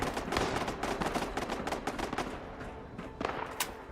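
Rapid gunfire in Fallout 76, a fast stream of sharp shots in a quick, slightly uneven rhythm, moderately distant and fairly quiet, thinning into scattered cracks near the end.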